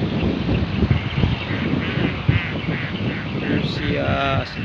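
Paya ducks about 75 days old quacking outdoors by a flooded rice field amid steady wind and background chatter, with a short run of rapid quacks near the end.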